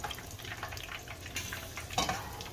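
Shrimp fry a second time in hot oil to crisp up, a soft, steady crackling hiss with small bursts of bubbling, fairly quiet and heard alone.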